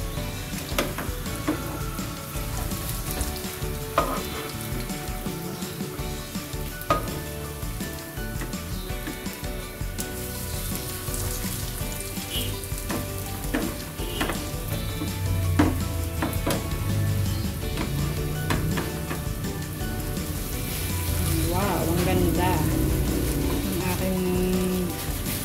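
Cassava maruya fritters frying in hot oil, a steady dense sizzle with crackling pops running throughout, close and fairly loud, with occasional faint clinks of a utensil.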